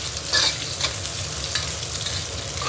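Meat being stir-fried in a wok: a close, steady hiss of sizzling oil with a few soft scrapes of the spatula, no voices.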